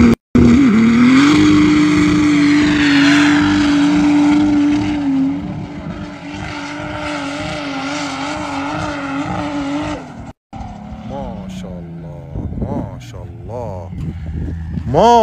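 Powerful car engine roaring during dune bashing, a loud rising and falling engine whine that strains for about ten seconds, then drops off into rougher bursts as the vehicle works over the sand, with voices talking over it.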